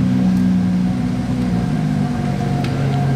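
A Ferrari Daytona SP3 hypercar engine rumbles close by with a low, steady growl as it rolls past at night in Monaco during the F1 Grand Prix, with no talking over it.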